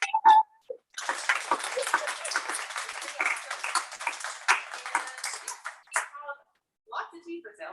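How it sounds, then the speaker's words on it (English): At the end of an evening author conversation in a bookstore, an audience breaks into a round of applause lasting about five seconds before fading, with a few voices heard on either side. "Everyone, please give them a huge round of applause"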